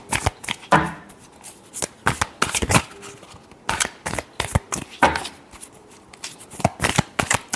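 Tarot cards are shuffled by hand in a quick series of crisp riffling bursts, close and clear, with brief pauses between them.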